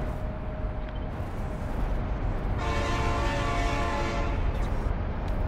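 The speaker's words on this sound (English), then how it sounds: "that train snuck right up on me." Train in the factory-building game Factorio rumbling loudly past, a dense rolling clatter with a tonal horn-like blare rising partway through and holding to the end, no talk.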